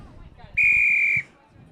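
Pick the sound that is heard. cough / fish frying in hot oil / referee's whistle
referee's whistle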